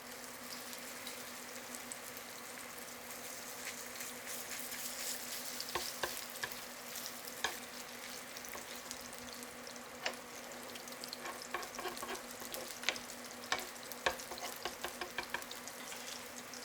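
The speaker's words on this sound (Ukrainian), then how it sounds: "Формуйте котлети і викладайте на сковороду" Steady sizzling of beef and zucchini patties with cheese frying in a pan, with crackling pops and spits scattered throughout and a faint hum underneath.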